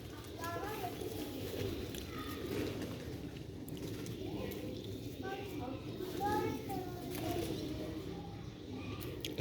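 Several soft pigeon coos sound in short bursts over a steady low rumble of background noise.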